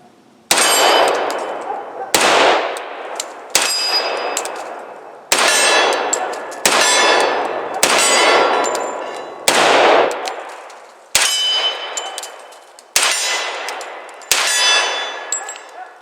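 An FNX-45 Tactical .45 pistol fires at a steel swinger target outdoors: ten or so loud, evenly spaced shots over the whole stretch, each followed by a bright ringing clang that slowly decays.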